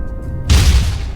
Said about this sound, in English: Incendiary device deployed.